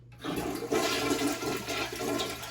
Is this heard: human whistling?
no